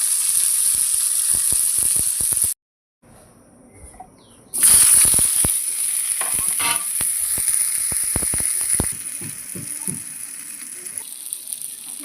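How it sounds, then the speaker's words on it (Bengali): Onion with green chillies, salt and turmeric fries in a pan, giving a steady loud sizzle with crackling pops and a short near-silent gap early on. "নুন হলুদ দিয়ে এবার পেঁয়াজটাকে একটু ভালো করে ভেজে দেবো।"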